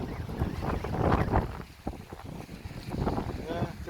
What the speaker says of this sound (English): The wind is picking up a little bit.